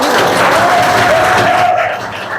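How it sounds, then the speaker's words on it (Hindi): An audience claps together in response to a call to applaud, a dense, loud, steady burst of hand claps that carries straight through and eases slightly at the end, with no voice over it. "ताली बजाओ एक बार"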